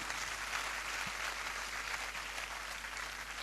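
Steady, dense applause from a gathering honouring a team, a continuous wash of many hands clapping at moderate distance with no talk over it.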